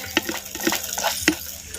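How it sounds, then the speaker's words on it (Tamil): Ginger and curry leaves sautéing in ghee, with a soft, steady sizzle broken by a few sharper clicks and scrapes as the pan is stirred, heard close and alone without talk. "அப்படியே சேர்த்த கருவேப்பிலையும் அப்படியே நெய்யில் பரட்டி விட்டு"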